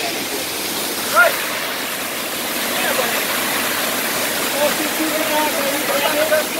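Rushing water of a hot spring waterfall at Ciater, a steady broad wash that fills the whole clip, with faint voices briefly rising over it.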